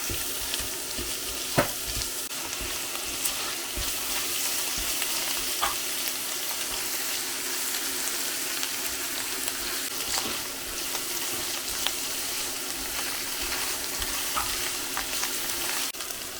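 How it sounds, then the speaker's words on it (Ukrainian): Meat sizzling and frying steadily in a pan after browned onions, with occasional clicks and scrapes of stirring over a constant hiss throughout, no voices. "Далі додаємо м'ясо та також підсмажимо."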